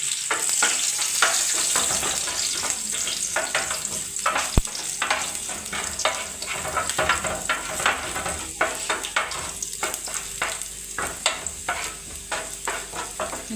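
Garlic cloves sauté in the hot oil left in a pan after frying kofta, making a steady, close sizzle with frequent crackles and occasional utensil scrapes over about fourteen seconds, no talk.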